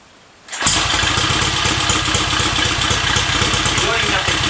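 A 1947 Sunbeam S7 motorcycle engine starting after a short silence, then settling into a loud, steady, close throbbing idle.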